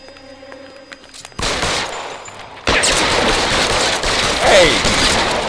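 Gunfire in the L.A. Noire video game, loud bursts of rapid shots breaking in after a quiet start and continuing as sustained close firing.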